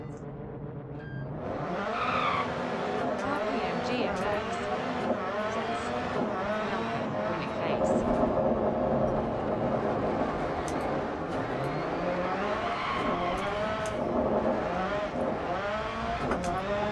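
A rally car in the Dirt Rally rallycross game roars loudly and continuously, the engine climbing and dropping through gear changes while tires squeal and skid on the track throughout.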